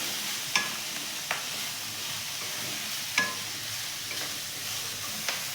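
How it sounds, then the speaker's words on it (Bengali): Potatoes and snails frying together in a pan for an onion-stalk snail curry, a soft continuous sizzle broken by a few sharp scrapes of a spatula against the pan, close and moderately quiet. "এগুলোকেও ভালো করে একসাথে ভাজবো।"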